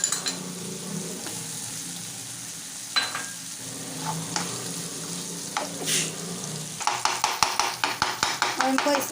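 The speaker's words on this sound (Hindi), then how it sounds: "इनको इस तरह चम्मच से मार मार के इसको मिक्स कर लेंगे" Brain (maghaz) mashed and stirred with a spoon in a pan of softened tomatoes, with a soft sizzle, scraping, and a fast run of sharp spoon taps on the pan near the end.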